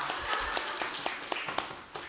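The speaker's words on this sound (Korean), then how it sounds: "이럴 땐 박수 한번 쳐줘요" Scattered applause from a church congregation during a Sunday worship service, uneven claps rising and fading over a steady room murmur, moderately distant and fairly faint.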